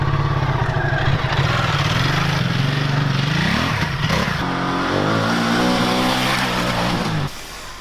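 A Ducati Multistrada 1260 Enduro adventure motorcycle accelerating hard at full throttle, its loud close engine note climbing steadily in pitch through the gears, then easing off near the end.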